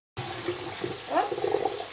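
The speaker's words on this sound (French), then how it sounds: "Je remets l'eau à couler." Tap water switched on and running steadily into a kitchen sink while cooking frozen scampi, an abrupt start and then a constant close splashing flow with slight gurgling changes.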